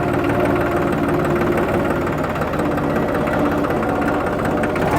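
A New Holland 3630 Super Plus 50 hp tractor runs in reverse gear, its diesel engine giving a loud, steady, close rumble with a fast knocking throb and no break throughout.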